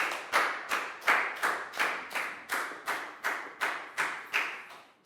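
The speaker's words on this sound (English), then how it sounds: "High five and a big round of applause for Down, please, guys." A class of young students claps in unison, about eleven loud, evenly spaced group claps in a steady rhythm.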